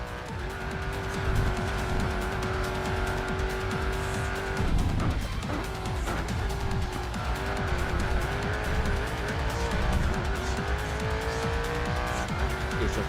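A race car circles the Nurburgring carousel in the Racing Master video game. The engine drones steadily and loudly throughout, with a brief dip around the midpoint and tire noise mixed in.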